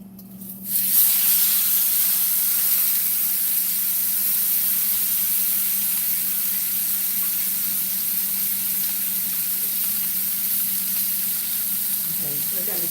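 Rib roast dropped into a hot pan, erupting into a loud, steady hissing sizzle after a quiet first second that holds close and even, with a faint knock near the end.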